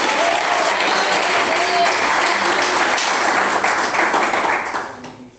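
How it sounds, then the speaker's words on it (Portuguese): A church congregation claps loudly and continuously at a Pentecostal-style service, dense applause with a few sharp taps, fading away over the last second. "Quem bate palmas?"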